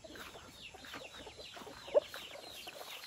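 A wild junglefowl (labuyo) rooster clucks faintly in soft, scattered calls near a house in the open, with one slightly sharper note midway.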